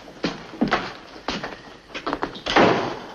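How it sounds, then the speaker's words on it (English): A wooden door in an army orderly room is closed, several knocking and thudding impacts in an irregular series, ending in a louder, longer shutting thump. "Shut the door."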